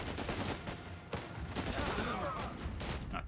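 Dense machine-gun fire in the video game Last Train Home, rapid overlapping bursts rattling on without pause for several seconds at a steady, moderately distant level.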